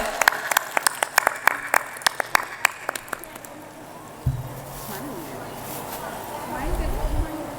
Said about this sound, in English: give a huge round of applause for her